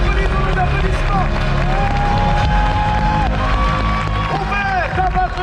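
An audience at an Olympic-style diving show applauds and cheers loudly and steadily throughout, with crowd babble mixed in and a commentator's voice running over the top.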